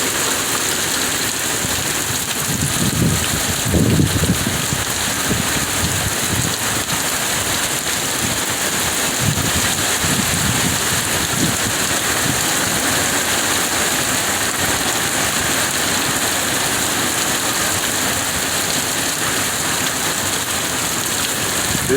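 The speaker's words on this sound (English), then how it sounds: "It's like sustained probably 25, 30 mile an hour and gusts probably 60 or 70." Hurricane Sally's rain pours steadily with a broad constant roar, strong gusts swelling low around three to four seconds and again near ten seconds, with no voices.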